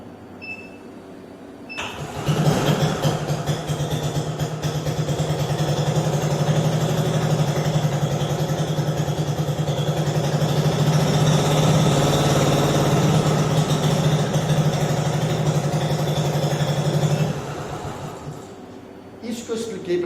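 A gasoline engine runs with a steady, fairly loud droning hum. It rises in after about two seconds, holds evenly for roughly fifteen seconds, then drops away.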